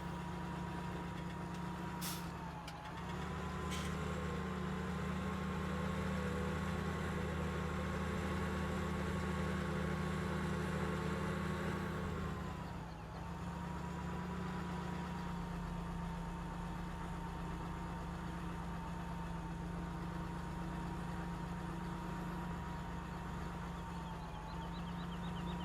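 Steady tractor engine droning in Farming Simulator 17 during bean harvesting, a continuous mid-pitched hum with a faint whine, running alone at even loudness throughout.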